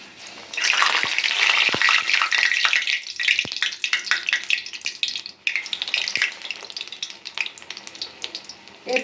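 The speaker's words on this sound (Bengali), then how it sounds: "এখন আমি ভাজবো লাউয়ের চপ।" Battered bottle gourd fritters (lau chop) dipped in gram flour batter sizzle and crackle loudly in hot oil, a dense bubbling hiss with sharp pops and spatters, no voices.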